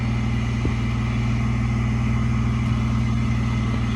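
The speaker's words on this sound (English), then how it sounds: "New exhausts always sound like that" A truck idles with a newly fitted AFE exhaust, a steady, loud low rumble with constant harmonic drone and no speech over it.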